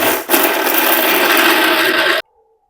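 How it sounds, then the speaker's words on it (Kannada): A kitchen mixer grinder grinds green masala for hariyali chicken, a loud, steady, rough whirring roar lasting about two seconds before it abruptly cuts off. "ಇವಾಗ ಮಿಕ್ಸರ್ ಆನ್ ಮಾಡೋಣ್ರಿ"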